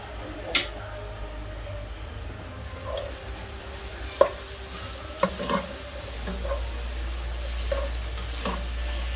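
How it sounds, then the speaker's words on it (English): Candied sweet potatoes caramelize in a pan, giving a steady low sizzle. A spoon stirs them with scattered soft scrapes and clicks. "Then we gotta stir it around."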